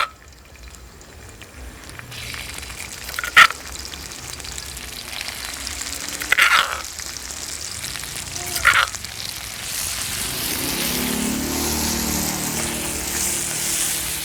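Shellfish stir-roast in a hot pan with a steady sizzling hiss, broken by a few sharp clatters of stirring and rising to a denser frying roar toward the end.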